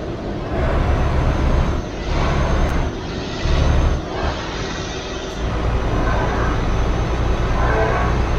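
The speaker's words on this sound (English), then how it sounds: "Is that a train?" A train passes in the Euro Truck Simulator 2 driving game near Perpignan, a loud steady rumble with rhythmic wheel clatter and whooshing surges that continue throughout.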